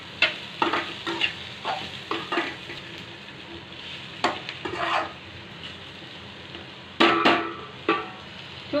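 Turmeric being stirred into steamed vegetables and green bajji chillies frying in a pan for a spicy masala, with a steady soft sizzle under repeated scraping strokes of a spoon against the pan and a few louder clinks.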